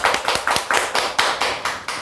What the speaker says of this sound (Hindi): प्लीज जोरदार तालियों के साथ स्वागत कीजिए वकार शेख सर का